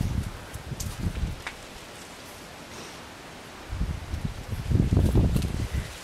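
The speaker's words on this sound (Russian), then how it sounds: "У нас сегодня погода вообще настолько ветреная." Strong, cold wind gusts through foliage outdoors near a grape vine, rising in rustling surges at the start and again toward the end, with a calmer lull between.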